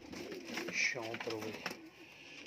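Teddy cross pigeons coo in a low, throaty burble close by, repeating across the short stretch while someone talks over them.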